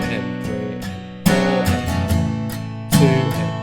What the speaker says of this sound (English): you can strum the strings a little harder on those strums.